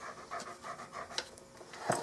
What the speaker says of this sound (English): Excuse the panting.